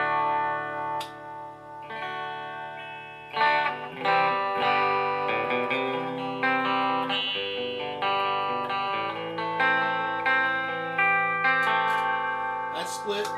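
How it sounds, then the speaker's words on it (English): Epiphone Les Paul Classic electric guitar played through a Boss Metal Zone distortion pedal with chorus added, sustained distorted chords and notes ringing loudly with shimmering modulation and some reverb, no talking. "When I put some coarse in it, I'm using a metal zone for my distortion."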